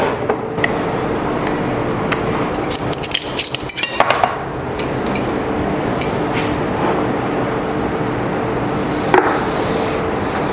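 A burst of quick, sharp knife chops through raw plantain on a board, fairly close, then a steady background hum with only an occasional tap.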